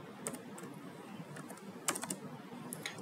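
Computer keyboard keys tapped in short irregular bursts while code is typed, close and fairly quiet, with brief pauses between flurries and no talking.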